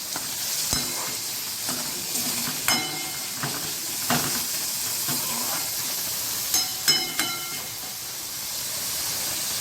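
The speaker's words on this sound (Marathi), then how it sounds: "एक आपल्याला कांदा या आपला व्यवस्थित हलवून घ्यायचं बारीकच गॅसवरती" Chopped onion frying in a pan over a low gas flame, with a steady soft sizzle and hiss throughout and several sharp spatula scrapes and knocks as it is stirred, close and alone with no talk.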